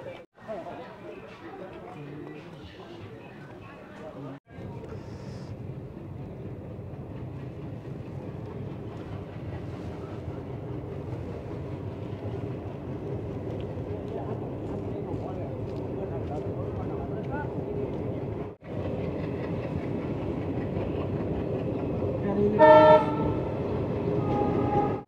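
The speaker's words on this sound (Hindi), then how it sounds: "अभी ट्रेन जिस स्टेशन से निकली है वो था गटरा रोड" A passenger train pulls out of Gadra Road station on the line from Barmer toward Munabao, its rumble building steadily from inside the carriage before a short horn blast near the end, with people talking over it.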